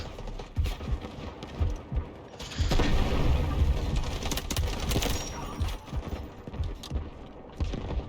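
Gunfire in the shooter game Delta Force crackles in rapid bursts, with a sustained automatic volley in the middle flanked by scattered shots, loud and close.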